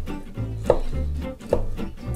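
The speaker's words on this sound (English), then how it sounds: "And now we'll chop up the smoked salmon." Knife chopping smoked salmon into small cubes on a board, two distinct close chops about a second apart over a low background.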